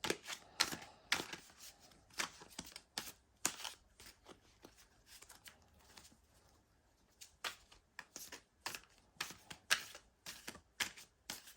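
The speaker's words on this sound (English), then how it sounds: "I have some pre-shuffled cards here. I'm just going to do a quick light mix on them" Tarot cards riffle and snap in quick bursts, a few short shuffling runs separated by brief pauses, close and fairly quiet.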